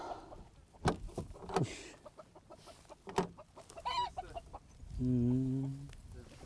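Hens in a mobile wooden chicken coop set in a weedy rice field cluck in short scattered bursts, ending with a drawn-out rising cackle, close and moderately loud with no speech.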